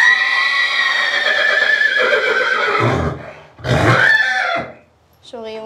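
A horse whinnies loudly and at length, its harmonic neigh trailing off, then a second shorter whinny follows close by after a brief pause.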